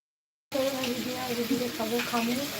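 Papaya frying in a pan starts suddenly after a short silence and holds a steady, close sizzle, with a humming, voice-like tone running underneath.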